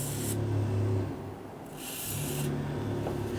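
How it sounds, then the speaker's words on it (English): Two short hissing bursts of silicone aerosol spray onto the tailgate hinge points of a Toyota Tundra pickup, each about a second long, over a low steady hum. "you can put a little bit of silicone spray right on these hinge points as well"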